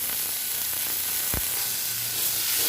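Spices with salt and a little chili powder sauté in a pan for a katla fish curry. A close, steady sizzling hiss runs throughout, broken once by a single soft knock.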